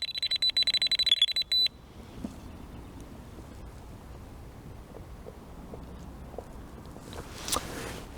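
Rapid electronic beeping from a fishing bite alarm for about a second and a half, then quiet outdoor wind and faint rustling.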